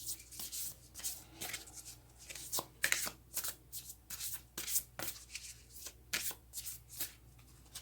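A Moonology oracle card deck is shuffled by hand in a series of crisp riffling swishes and soft slaps, close up and fairly quiet, repeating in uneven bursts with no talking.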